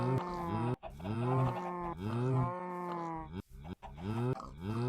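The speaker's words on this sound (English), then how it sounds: "So, we have the cow." A cow mob in a C++ Minecraft clone video game moos repeatedly, with several long, loud, nearby lowing calls in quick succession and short breaks between them.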